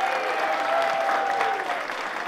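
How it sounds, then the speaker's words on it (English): An audience at a small-business pitch competition final cheers and applauds, a dense wash of clapping with faint whistles and shouts mixed in, sustained and fairly close. "So you guys cheer and clap and applaud, and let's see if they can hear us"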